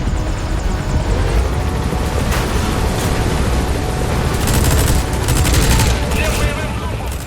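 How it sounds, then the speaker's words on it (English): A helicopter's rotor and engine roar continuously under a hail of rapid minigun bursts in Metal Gear Solid V combat, the fire loud and dense with sharper volleys clustering toward the end. "we'll use the helicopter's minigun to take out enemies"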